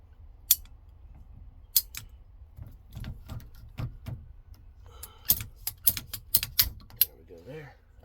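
Sharp snips and clicks from cutting out a section of line for a T-fitting on a central A/C installation, several crisp isolated cuts spread across the stretch with handling noises and some quiet talk between them.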